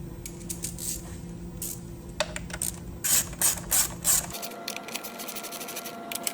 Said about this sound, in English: Grab our ratchet.